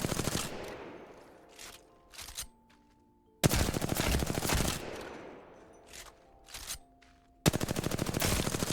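Automatic weapons fired in the Apex Legends firing range: two long, loud, fast bursts of shots, each cut off abruptly, followed by reload clicks and mechanical handling sounds between bursts, with no talking.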